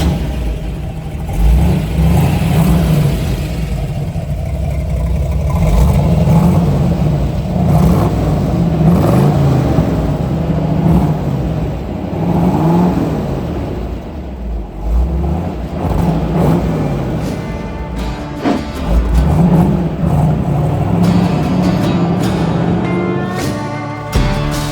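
A 1957 Chevrolet Corvette convertible with solid lifters and dual quads runs loud and close, its engine rising and falling through repeated revs over a rough idle, with no talk.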